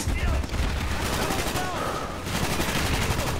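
An AK rifle in Call of Duty Black Ops fires in loud, continuous rapid bursts that run through the whole stretch with dense, overlapping gunfire.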